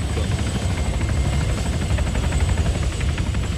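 A helicopter in the military shooter ARMA 3 holds close and loud, its rotor producing a fast, steady chopping throb over a deep engine rumble with a thin high whine above, unbroken for the whole stretch.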